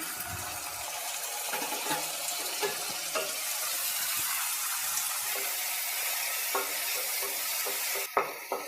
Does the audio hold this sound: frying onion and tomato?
yes